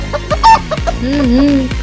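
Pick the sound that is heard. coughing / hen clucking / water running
hen clucking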